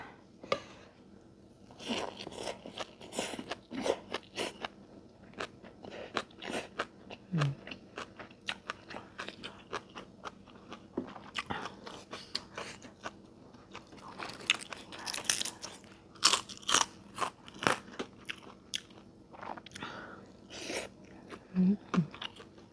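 Close, crisp crunching and chewing as someone eats rice with red chili dip, grilled fish and blanched greens, a steady run of bites and munches with no talk.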